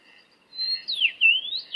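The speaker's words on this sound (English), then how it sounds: "This is the call of the Chechevitsa." A common rosefinch call plays from a speaker in the Chechnya mountains: a clear, sweet whistled phrase of rising and falling notes, heard alone against quiet.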